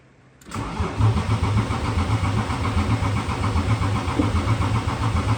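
A BMW E36 fitted with an M54 engine cranks briefly and fires up, settling into a steady, close, rumbling idle with a regular pulsing beat.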